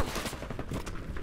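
Gunfire in the shooter game Battlefield V, a short burst of rapid shots heard at moderate distance in a busy, muffled mix.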